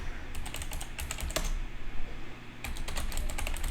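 Typing on a computer keyboard while entering a sudo command in a terminal, with two bursts of quick, close key clicks separated by a short pause and one heavier keystroke between them.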